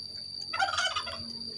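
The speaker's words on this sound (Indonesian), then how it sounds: "Itu ada ayam kalkun ya" A turkey gobbling once in a short rapid warbling burst at moderate distance, with a steady high electronic whine and faint background noise underneath.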